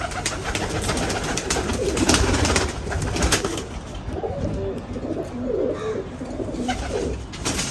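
A pigeon coos in repeated rolling phrases in the second half, close and fairly loud, after a stretch of broadband handling and rustling noise.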